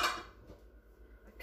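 A cooking pot for carne guisada is handled in a home kitchen, with one brief clatter of metal at the start that fades into quiet room tone.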